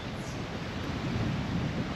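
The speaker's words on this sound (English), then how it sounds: "Been quite a windy day today." Steady wind blustering across the microphone at a beach campsite on Cowley Beach, Far North Queensland, with a low rumble like surf in the background, constant and fairly loud throughout.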